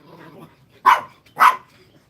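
Dogs bark twice, sharp and fairly close, the two barks about half a second apart, with nothing else audible between them.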